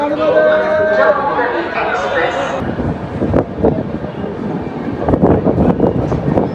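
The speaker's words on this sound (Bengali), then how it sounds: "এটা হচ্ছে ধানবাদ স্টেশন দেখতে পাচ্ছ" A busy platform at Dhanbad railway station, with train and rail-car noise under steady crowd chatter and voices, loud and close, and a rumble that grows in the second half.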